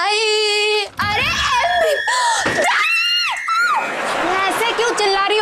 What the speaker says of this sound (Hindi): ऐसे क्यों चिल्ला रही हो दीदी?